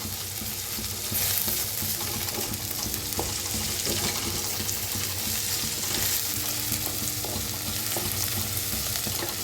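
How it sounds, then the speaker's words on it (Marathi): Onion frying in a pan while being stirred constantly gives a steady, close sizzling hiss with light, irregular scrapes of the spoon throughout. "सारखं हलवत भाजायचं म्हणजे छान भाजतोय"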